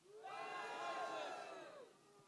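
A distant crowd at an outdoor political gathering for the Liberal Party raises a couple of seconds of massed cheering and shouting voices, faint overall, swelling and then fading.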